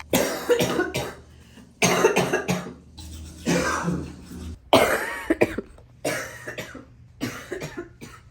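Repeated coughing fits, several harsh bursts spaced a second or so apart, close and fairly loud with no talking.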